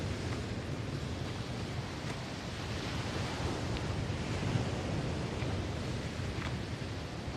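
Sea waves washing onto a shore make a steady, dense broadband roar with soft rolling swells, heard alone with no voices throughout.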